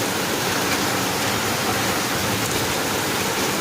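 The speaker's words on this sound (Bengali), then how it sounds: "দেখছি বৃষ্টি হচ্ছে, বিশাল বৃষ্টি হচ্ছে" Heavy downpour hisses as a dense, unbroken roar of rain, loud and steady with no gaps or other sounds.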